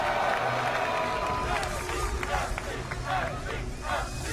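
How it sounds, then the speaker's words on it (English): At the Red Bull Battle Grounds StarCraft II tournament semifinal, the crowd cheers and claps as a busy, loud roar beneath a commentator's voice. "The crowd definitely cheering on MC here."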